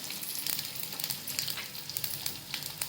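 Spices with turmeric fry in a pan, producing a bright, steady crackling sizzle with small bursts of spattering throughout, close and fairly soft.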